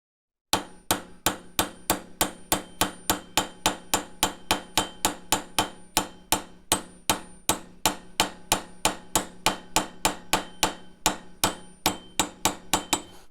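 Repeated hammer blows striking metal while building a thermal webcam, a steady rhythm of sharp ringing clangs, loud and close, with no one talking.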